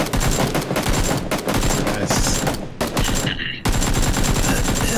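Rapid bursts of gunfire from the video game PUBG, loud and dense, crackling shots stacked almost continuously with brief gaps, a Kar98 rifle among the weapons in play.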